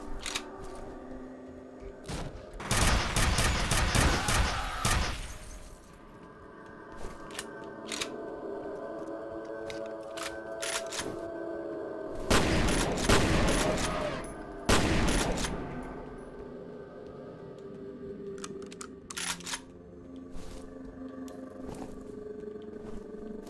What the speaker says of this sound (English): See, it's a nail gun.